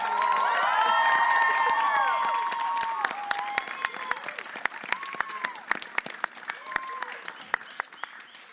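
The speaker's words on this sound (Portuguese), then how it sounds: "Palmas para a Débora Garcia" An audience claps and cheers for poet Débora Garcia at a poetry gathering, a loud burst of applause with whoops that thins into scattered individual claps toward the end.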